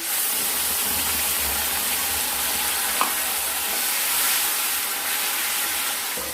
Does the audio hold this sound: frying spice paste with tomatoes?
yes